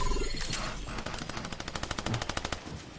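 Rapid automatic gunfire in Fortnite as a player shoots at a bot, a quick burst of evenly spaced shots that builds into a steady rattling stream, loud and close with no talk.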